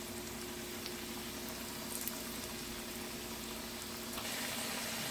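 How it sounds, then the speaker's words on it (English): Steady, quiet sizzling and bubbling of potatoes frying in hot oil, continuous throughout with no voices. "I just wanted you all to see them as I was frying them."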